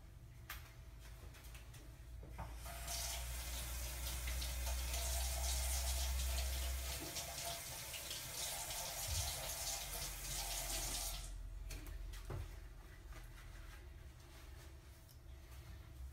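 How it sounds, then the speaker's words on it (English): A kitchen tap runs steadily for about nine seconds while a finger is rinsed under it during cake decorating, then shuts off, leaving a quiet room with a few faint knocks. "Now I'm going to rinse my finger off."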